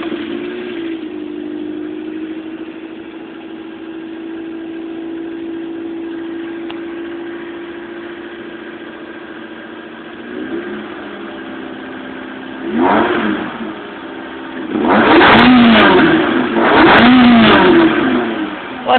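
A high-compression bastard motor with a slight cam-shim tick idles with a steady hum for a long stretch, then gets a few blips and several loud, sharp revs that rise and fall close by.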